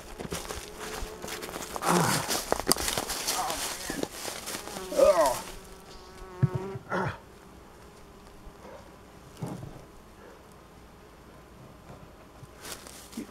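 Honey bees buzz steadily around a hive being split, a close continuous drone with occasional footsteps and handling bumps, fading to sparser buzzing later.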